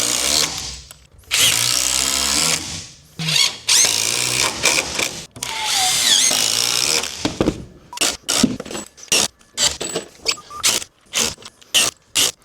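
A power drill drives 3-inch outdoor-rated structural screws into wooden dock blocks: long, loud whirring runs early on, then a rapid series of short bursts, close and alone.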